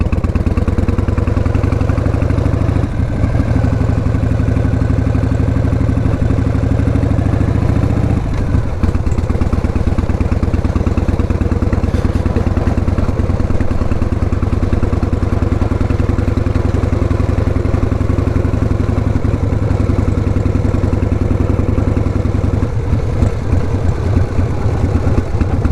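A 1988 Harley-Davidson Heritage Softail with sidecar runs steadily throughout, its loud, close engine holding a constant low, lumpy throb with brief shifts in load, and no one speaks.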